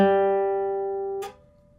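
A classical guitar note rings clearly, then is abruptly cut off by a fingernail muting the string, adding a brief buzzy, scratchy click.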